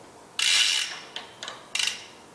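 A wrench ratchets while undoing bicycle chainring bolts on a triple chainset being converted to a double: one long burst of close, sharp metallic clicking, then several shorter ratcheting clicks in quick succession.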